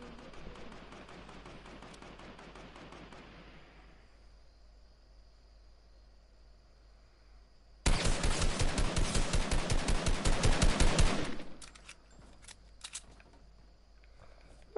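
Video game gunfire, starting with a rapid stream of shots that fades out, then a few quiet seconds, then a loud close burst of rapid automatic fire that cuts off and leaves a few scattered clicks.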